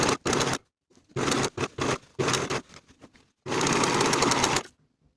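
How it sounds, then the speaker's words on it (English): A serger overlocks the raw fabric edges of a pant seam, running in short whirring bursts with pauses between, then one longer steady run before stopping. "Now I'll serge my raw edges together for the entire seam"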